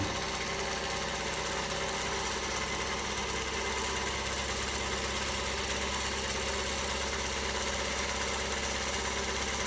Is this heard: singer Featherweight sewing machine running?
yes